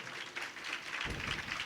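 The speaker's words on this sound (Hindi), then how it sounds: "जोरदार ताली बजाओ" Audience applause at a Chhattisgarhi Ramayan Manas Mandali recital by elderly performers, a dense crowd of hands clapping steadily, swelling and filling the room.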